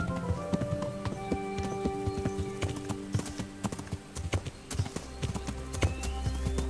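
Horse hooves clip-clop at a steady riding pace in the video game Kingdom Come: Deliverance, sounding close and clear over a soft outdoor ambience, with no talking.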